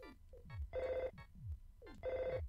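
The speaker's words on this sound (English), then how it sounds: "And that's the phone." A chiptune-style telephone rings in the video game Earthbound, repeating its electronic trill in two quick rising-and-falling bursts, clear and steady against a bouncy game soundtrack.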